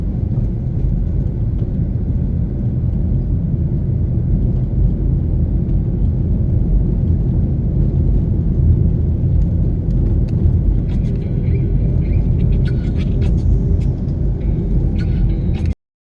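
Steady, close car engine and road rumble while driving along Red Hills Road in Jamaica, continuous throughout with a few faint higher clicks and tones near the end.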